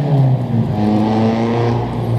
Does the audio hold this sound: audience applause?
no